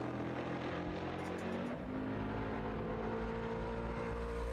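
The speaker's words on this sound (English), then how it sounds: "James Glass downshifting." Vintage race car downshifting at Watkins Glen during a VRG vintage race, a steady droning engine that drops and shifts pitch midway, with faint crowd-free track ambience and no talk.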